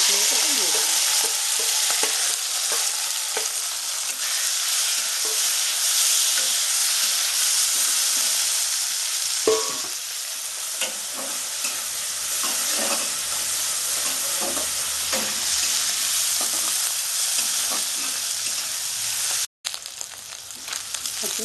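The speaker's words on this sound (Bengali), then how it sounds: "এটা ফুটে গেলে আমি কুচো চিংড়িটা এতে দিয়ে দেবো" Small shrimp frying in a pan for a Bengali bottle gourd curry, a loud continuous close sizzle with stirring noises throughout and one brief break near the end.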